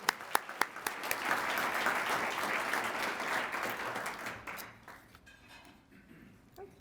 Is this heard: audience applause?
yes